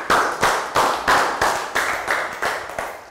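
A primary English class claps in a round of applause: about eight loud, evenly spaced group claps, close by, with no talking.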